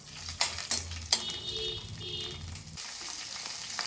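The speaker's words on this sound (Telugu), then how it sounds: "స్టవ్ మీడియం ఫ్లేమ్లో పెట్టుకొని వీటిని బాగా వేయించుకోవాలి." Green chillies and other ingredients for Bandaru chutney frying in a pan over a medium flame, a crackling sizzle with several sharp spoon clicks and scrapes, fading to a quieter hiss near the end, no voices.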